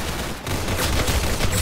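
Rapid bursts of gunfire in the Roblox shooter Arsenal, dense overlapping shots fired in quick succession with a brief gap near the start, loud and close, no talk.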